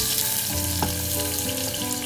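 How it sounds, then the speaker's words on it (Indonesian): Onion, red chili, garlic and shrimp paste sizzle steadily in hot oil over medium heat, a close, continuous frying hiss with faint stirring and clinks underneath and no talking. "Nah, kita goreng pertama dengan api yang sedang."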